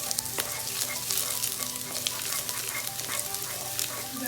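Garlic fries in a pan for a vegetable stir fry, giving a close, continuous crackling sizzle with dense popping spatters and no talk.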